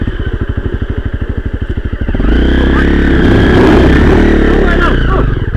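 A KYMCO Spade 150 motorcycle engine on a mountain forest trail, idling with a steady rapid chug before the throttle opens and it revs loud and close for several seconds.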